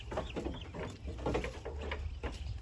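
Ducks on a farm in the countryside, a scatter of soft quacks and clucking calls at moderate distance over a low background rumble, with no talking.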